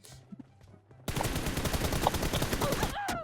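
Automatic gunfire in PUBG Mobile played on an iPhone 14 Pro Max: after a quiet moment with faint background sounds, a loud, rapid, sustained burst of shots runs for about two seconds.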